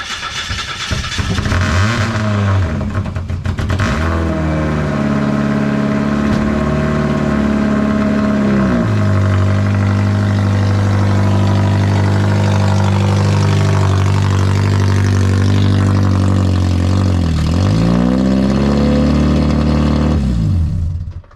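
A Mazda MX-5 engine turns over and catches, then runs loud with steady revving and a couple of throttle dips, close by with no talking.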